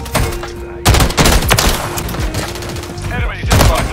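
Rapid automatic gunfire from an assault rifle in Call of Duty Modern Warfare 3 rattles loud and close in sustained bursts, joined by heavy impact thumps and a steady background tone, with brief gaps between volleys.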